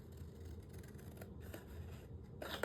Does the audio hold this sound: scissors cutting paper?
yes